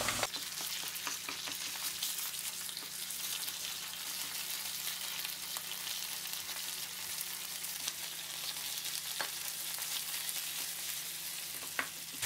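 Onions sautéing in a pan with pepper paste and tomato paste make a quiet, continuous sizzle with occasional faint stirring clicks, steady throughout and without voices.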